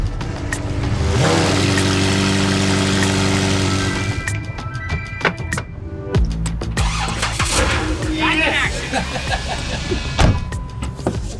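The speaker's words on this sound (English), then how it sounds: "New battery, car starts right up." Purple Lamborghini SVJ cranked on a fresh battery: a whirring electric starter for several seconds, then a sharp catch and loud exhaust bark, settling into a rough, close idle with clatter and voices nearby.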